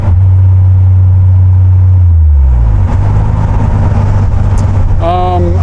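A Jeep rolls along with a loud, steady low engine and road drone that shifts pitch partway through, the cabin noise continuous throughout, with a brief higher tonal sound near the end.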